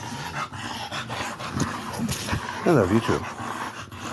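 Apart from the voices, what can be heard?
big dog panting and growling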